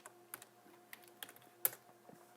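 Quiet clicks of typing on a computer keyboard, a sparse irregular run of soft keystrokes with one sharper tap near the end, close and faint over a low hum.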